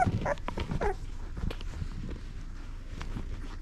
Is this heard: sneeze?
no